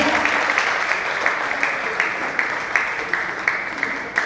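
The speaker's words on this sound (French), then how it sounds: "Est-ce qu'on peut applaudir ceux qui s'occupent de l'aspect caméra?" A theatre audience applauding the camera crew, a steady even roll of many hands with a few sharper claps standing out at a regular pace.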